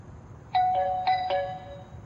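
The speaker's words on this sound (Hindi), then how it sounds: "घंटी बज रही है" A doorbell chimes in a home in a short burst of several bright, ringing tones that overlap and fade, with a quiet room behind them.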